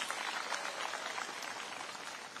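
Students at Matuga Girls' High School in Kwale County applauding at a school event, steady faint clapping heard from a distance.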